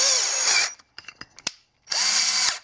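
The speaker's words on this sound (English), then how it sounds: "you just basically use the drill." A power drill drives a screw into a wooden stop block for a CNC setup, with two loud whirring bursts around a pause filled with small clicks and knocks.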